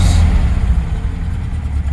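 A cold 1966 Porsche 912 idles low and rough on two cylinders, a loud, close, uneven low rumble with a slightly lumpy pulse throughout.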